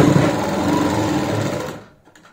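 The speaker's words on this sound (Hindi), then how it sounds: "इस तरीके से फोल्ड लगाते हुए सिलाई लगाएंगे।" A sewing machine runs steadily, stitching a folded fabric seam, with a loud continuous whirring motor for about two seconds before it stops and leaves near silence.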